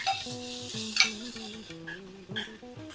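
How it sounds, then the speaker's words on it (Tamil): Mustard seeds, urad dal and cumin tempering in hot oil give a steady close sizzle with scattered pops and crackles, plus brief clinks of a spoon stirring against the pan. "அதுக்கு கொஞ்சம் கடுகு, உளுத்தம்பருப்பு, சீரகம் தாளிச்சுப்போம்"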